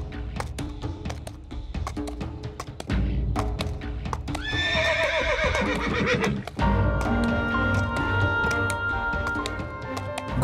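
Horses neigh loudly with repeated whinnies over a steady clip-clop of hooves, close and prominent throughout a busy stable scene.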